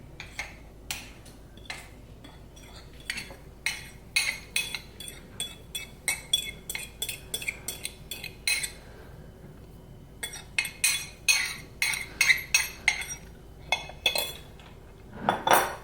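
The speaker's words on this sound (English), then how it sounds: "I just want to stir the flour" A utensil stirring flour in a bowl, producing a steady run of close clinks and scrapes against the bowl in an uneven rhythm, with no talking.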